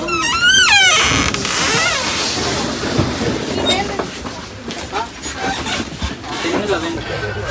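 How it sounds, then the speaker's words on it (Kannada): A steady rumble and rattle of a train pulling out of Yelahanka station fill the scene, with a high whistle early on and voices talking over the noise. "ಟ್ರೈನ್ ಹೋಗ್ತಾ ಇದೆ"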